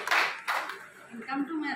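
Two sharp hand claps ring out close together during a marketing plan presentation, followed by a brief voice.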